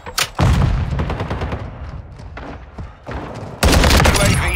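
Rapid automatic gunfire from a Call of Duty Modern Warfare 2 Kill Confirmed match, loud close bursts rattling almost continuously, with a brief lull before a heavy volley at the end.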